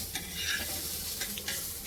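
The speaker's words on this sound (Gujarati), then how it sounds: "મરચા બી સારી રીતના શેકાય છે" Chillies roasting in a pan for a Maharashtrian amti, a steady dry sizzle with light scraping stirs, close and continuous without voices.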